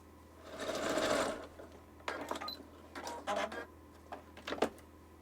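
A sewing machine stitches after its bobbin case was repaired, with a sustained whirring run up front followed by several shorter bursts of stitching separated by pauses, close and clear.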